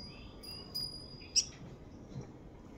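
A few brief, high bird chirps, one sharper call near the middle, over a low rumbling outdoor background.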